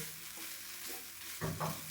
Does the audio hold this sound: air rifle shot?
no